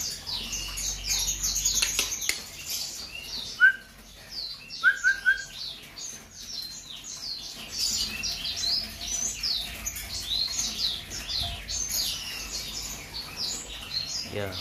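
An Aceh white-rumped shama (murai batu) sings in a breeding setup, bright chirps and whistled phrases of varying loudness, with a couple of clear piping notes and faint background rustling.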